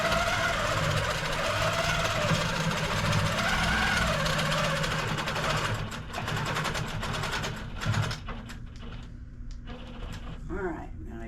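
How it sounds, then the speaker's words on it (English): A domestic sewing machine back stitches the corners of an insulated tote bag, a loud, continuous close-up mechanical hum that grows more broken and intermittent toward the end, with a voice speaking over it. "I'm just back stitching on the corners there"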